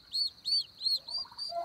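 Newly hatched Bourbon turkey chicks peep in a rapid series of about five high, bright calls, with a lower, fainter gobble-like burble from adult turkeys at the end.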